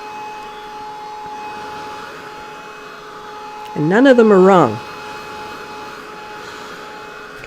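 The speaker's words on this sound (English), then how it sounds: "It's certainly hot because this is a heat tool, not a regular hair dryer." A heat tool blows hot air over watercolor paper painted with northern lights and mountains, giving a steady whining motor hum with a faint airy hiss throughout. A voice speaks briefly midway.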